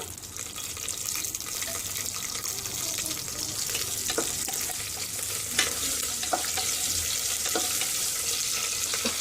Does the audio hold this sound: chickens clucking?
no